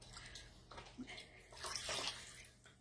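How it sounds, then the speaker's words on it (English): Water sloshing and splashing in a small bucket as an eraser is dipped and moved around to wet it, close up with brief drips. "I just wet down my eraser in my little water bucket"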